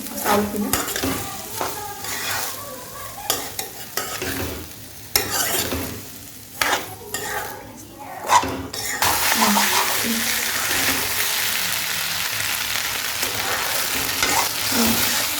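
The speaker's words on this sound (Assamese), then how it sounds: "এতিয়া পোলাওখিনি আমি অলপ ভালকৈ ভাজি ল'ম ৰঙচুৱা হোৱালৈকে" Uncooked rice fries in a pan for pulao, starting with clattering stirring and scraping of a spoon on the pan, then settling into a steady close sizzle.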